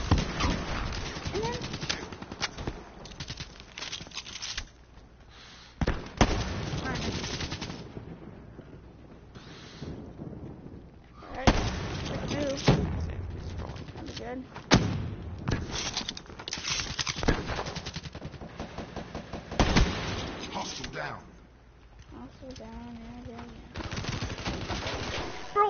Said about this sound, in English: This guy's using an LMG.